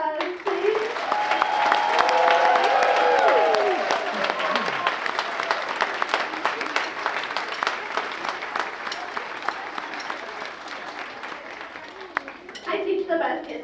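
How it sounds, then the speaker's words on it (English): A big final round of applause fills a school auditorium after a sixth-grade band concert. Dense, sustained clapping from a large audience comes with whoops and cheers early on, then slowly thins, and a voice speaks as it fades. "And if we could give them one big last round of applause"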